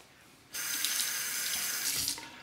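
Tap water runs steadily onto a straight razor being rinsed at a sink after shaving, starting abruptly and flowing loud and close for about a second and a half before cutting back down.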